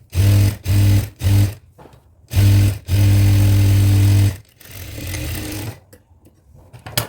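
A sewing machine stitches a churidar pant in several short bursts and one longer run, a loud, close mechanical hum that starts and stops repeatedly, with quieter handling noise between bursts.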